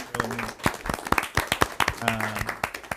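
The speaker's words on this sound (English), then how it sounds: "That deserves an applause." A small group at a Lincoln city council meeting claps in a sparse, uneven patter for a few seconds, close by, while voices talk over it.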